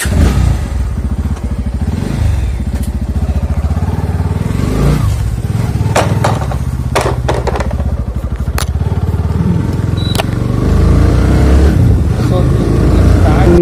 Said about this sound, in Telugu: స్టార్ట్ చేయగానే సో సౌండ్ అయితే సో ఆసం అయితే అనిపిస్తుంది, బీటింగ్ అనేది.